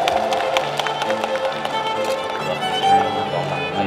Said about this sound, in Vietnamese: xin quý vị cho một tràng vỗ tay ạ